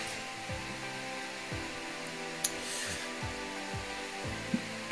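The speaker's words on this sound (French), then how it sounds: "j'ai juste activé les ventilateurs de mon ordinateur" Computer cooling fans whir steadily, with repeated rising and falling spin-up sweeps every second or so, joined by faint high clicks in a quiet room.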